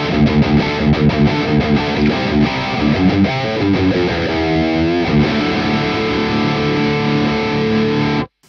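A distorted electric guitar plays chords and a short riff through an angled 4x12 cabinet with Vintage 30 speakers, miked with a 121 and a 57, full and tight, then lets a chord ring out before cutting off abruptly.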